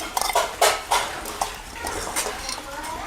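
Radish pickle being stirred with spices and oil in a pot, the spoon clinking and scraping against the metal in a run of sharp, close taps with soft mixing between them, no talk.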